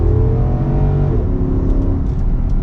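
A 2024 Nissan Patrol Platinum engine accelerating hard from inside the cabin, a loud deep rising drone with a gear change partway through, then continuing to pull with no talking.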